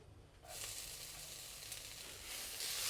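Four chopped shallots sizzle in oil in a wok over medium heat, a soft, even frying hiss that begins abruptly and swells slightly toward the end, heard alone without voices.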